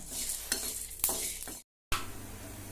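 Dry spices for Chettinad pepper chicken masala being roasted and stirred in a pan, a steady close scraping and rustle with a few sharp clinks of the spoon and a brief cut to silence partway through.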